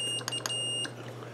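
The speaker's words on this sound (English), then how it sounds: "that's a cheap way to get a buzzer right there" A cheap piezo buzzer gives several short, thin, high-pitched electronic beeps against a steady background hum, close and fairly faint, with no talking.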